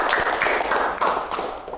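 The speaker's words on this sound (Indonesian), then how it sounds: "Boleh tepuk tangan Bapak-bapak luar biasa." Studio audience at an Indonesian election talk show claps in a short dense burst, steady and fairly loud, with no voices over it.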